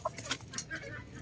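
A young cockerel, a Golden Boy crossed with Boston about four months old, gives a few short soft clucks close by, quiet and brief.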